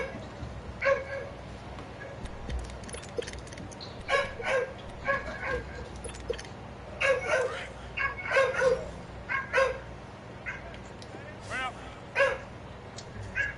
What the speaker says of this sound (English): Don't do all that barking now.